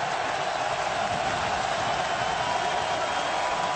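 A stadium crowd of 74,000 roaring at a South Carolina vs. Ole Miss college football game in 2009: a dense, steady wall of cheering and noise that holds evenly throughout.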